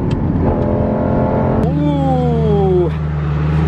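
A manual V10 Lamborghini Gallardo race car pulls hard in third gear, its loud engine note climbing steadily after a shift, with a brief dip and bark at the gear change, heard up close from the cabin.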